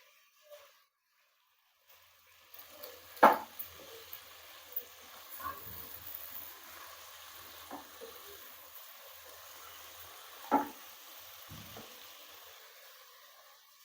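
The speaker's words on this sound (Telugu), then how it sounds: "ఒక నిమిషం దీన్ని వేగనిద్దాం, కొద్ది హైలో పెట్టి." Masala frying on high heat in a pan for country chicken curry, a soft steady sizzle with a couple of sharper clinks and scrapes of stirring, quiet and close.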